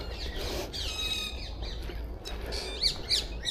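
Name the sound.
parakeet squawking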